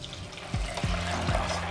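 Fresh juice from a Breville juicer pours through a strainer, a steady close liquid stream with a few gurgling glugs and splashes, no talking.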